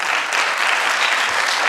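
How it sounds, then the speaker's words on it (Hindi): An audience at a Hindi stage performance breaks into loud, dense applause that stays steady and close throughout the short stretch, with no voices over it. "इस अद्भुत प्रस्तुति के लिए एक बार जोरदार तालियां हो जाएं।"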